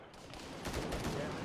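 Bursts of gunfire from a jungle shooter game, a rooftop shooter firing toward a player, rattling in quick, fairly faint volleys with no voices over them.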